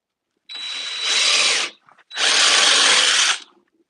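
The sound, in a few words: power drill drilling into carved wood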